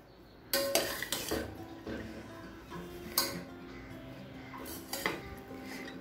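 Ghee rice is stirred gently in a pot, with a series of sharp metal spoon clinks and scrapes against the pot, several in quick succession and then a few spaced knocks, close and fairly quiet.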